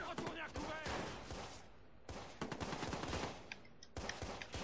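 Rapid, close bursts of automatic gunfire in the video game Watch Dogs, set inside a prison, sharp repeated shots in quick clusters with brief gaps between volleys.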